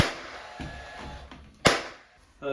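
A nail gun fires through door jamb shims while a split jamb prehung door is installed, giving a few sharp, close pneumatic bangs spaced about a second apart, with a light knock between and no talk.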